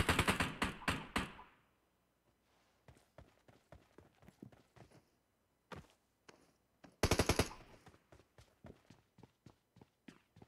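Automatic-weapon fire in a PUBG Mobile battle: a loud rapid burst up front, a long trail of scattered single cracks and distant shots, then a second sharp burst followed by more spaced reports.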